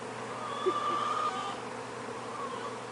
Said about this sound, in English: got bees everywhere.